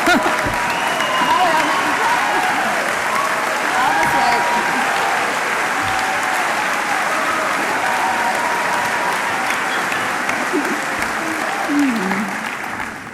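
Sustained applause from a school audience for a teacher honored as Joplin Schools Teacher of the Year, a dense, steady clapping that fills the room at full strength, then begins to thin and fade in the final moments.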